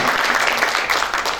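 Brief burst of audience clapping at a seminar gathering, a close, busy patter of many hands that stays loud and even across its short span.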